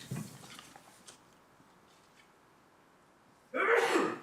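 A single sharp, close sneeze bursts out in a quiet council committee meeting room after a few seconds of faint background murmur.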